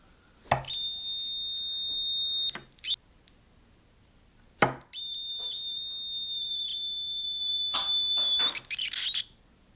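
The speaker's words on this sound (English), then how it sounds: "if it picks up any vibrations, it's gonna start to set the alarm off" A vibration-triggered electronic alarm shrieks in a high steady tone, stopping and restarting after a bump, with knocks and handling noises between the long blasts.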